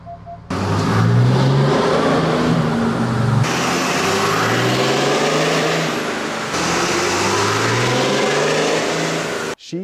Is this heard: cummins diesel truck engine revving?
yes